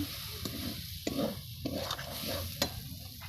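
Spices including turmeric and Kashmiri chilli powder stir-fry in a pan for chicken kosha, with a steady sizzle under repeated scraping stirs of the spoon.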